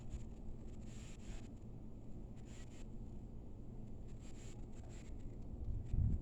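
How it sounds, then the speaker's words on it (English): Steady low wind rumble buffets the microphone throughout, with no voices, swelling slightly at the end. "It's a little windy"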